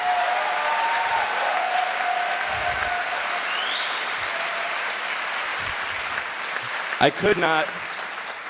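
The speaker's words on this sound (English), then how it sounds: "So let's give them the biggest round of applause we possibly can." A crowd claps throughout at a hackathon opening ceremony, sustained applause at moderate distance with a few whoops over it and someone briefly speaking near the end.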